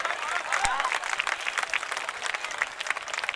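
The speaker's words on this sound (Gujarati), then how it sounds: "જોરદાર તાલી. આ તાલી બાપાનો પ્રસાદ લીધો છે, તાળી તો વગાડો યાર." Applause from an audience at a temple festival in Gujarat, steady scattered clapping throughout, with a voice speaking over it.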